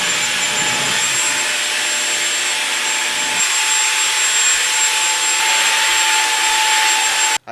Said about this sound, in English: I'm gonna vacuum and maybe mop this as well.